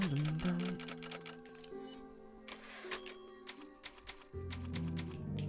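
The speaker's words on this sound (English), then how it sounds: "There's a typewriter out there." Near a typewriter in Resident Evil 4 on the Wii, sharp ticking clicks come in an irregular run over sustained musical tones, without speech.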